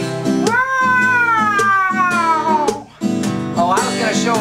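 A voice imitates a cat yowling at night, drawn-out rising and falling meows sung loudly over steady musical accompaniment, with a second shorter yowl near the end.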